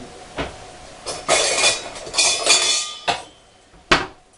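Metal electric mixer beaters are clicked and rattled into place in a home kitchen, making a series of sharp clinks and scraping clatters, close and fairly loud, with no talking.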